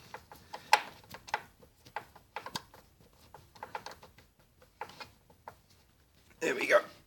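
A hex Allen key turns a motorcycle bolt with light clicking and scraping in short bursts, followed by a louder rattle near the end, close up and without speech.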